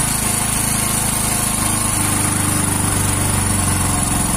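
A Hero Splendor Plus motorcycle engine runs at a steady, loud, buzzing idle up close while its RPM screw is adjusted, the rapid firing pulses continuous with no speech.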